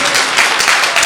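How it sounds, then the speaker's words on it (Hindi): A church congregation claps together in thanks to God during a worship meeting in Ellenabad, a dense, steady wash of many hands lasting the whole moment with no pauses. "एक अच्छी ताली बजाकर परमेश्वर को धन्यवाद।"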